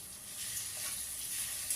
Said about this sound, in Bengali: রসুনটা তেলের সাথে একটু ভাজা ভাজা করে নেব।